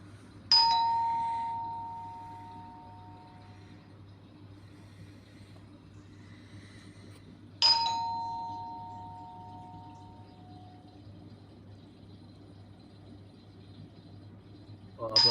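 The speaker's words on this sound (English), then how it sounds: "Just keeps ringing the doorbell." Two electronic doorbell chimes ring about seven seconds apart, each a bright ding-dong that rings out and decays over a steady low hum, with a third ring just starting at the end.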